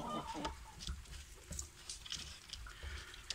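A hen clucks softly near her eggs, with short, faint clucks scattered in a quiet setting.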